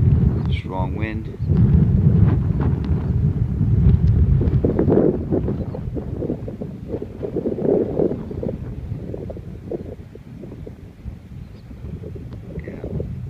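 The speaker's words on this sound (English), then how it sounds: "Strong wind." Strong gusty wind from Hurricane Joaquin buffets the microphone aboard a Fire Island ferry, a loud continuous low roar with rumbling boat and water noise throughout.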